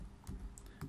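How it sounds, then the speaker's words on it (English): Brief bursts of typing on a computer keyboard, a few close, quick keystrokes with uneven rhythm over a low room hum. "I'll just type it out."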